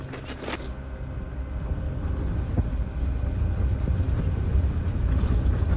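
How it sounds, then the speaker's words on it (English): Wind from an F5 tornado near Enderlin roars continuously, a loud, dense rush and buffeting against the microphone that builds steadily and stays intense throughout. "Listen to the winds on that."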